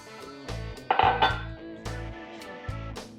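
A utensil stirring almond flour in a bowl, with repeated clinks and scrapes against the bowl in an irregular rhythm, close and fairly clear, without talk.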